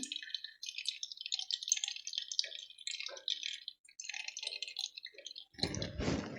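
Whey drips from curd tied up in a cloth to drain for shrikhand, a quick, irregular patter of small drops, faint and close, ending in a louder splashy rush.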